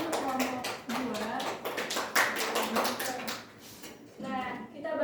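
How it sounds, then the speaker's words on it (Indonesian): Classroom applause for a student group, a short burst of many hands clapping and tapping in an uneven rhythm, mixed with voices talking and children's chatter. "Tepuk tangan untuk kelompok 2"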